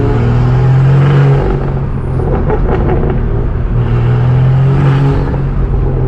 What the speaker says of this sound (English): Nice back road here, some turbo spool.